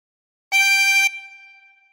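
One blown harmonica note on hole six, clean and reedy, held for about half a second close up before it fades out, with silence before it.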